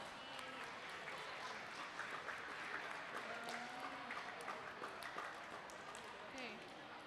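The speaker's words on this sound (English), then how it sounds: "please give her a big round of applause" Audience applause fills a school STEAM expo hall: a steady, dense patter of clapping that holds for about seven seconds, with crowd voices mixed in underneath.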